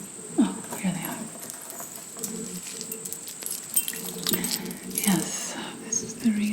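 Keys jingle and clink in soft, scattered bursts amid close rustling and tapping in a quiet room, with faint whispering at times.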